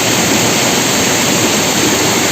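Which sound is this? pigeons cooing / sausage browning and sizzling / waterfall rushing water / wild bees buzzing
waterfall rushing water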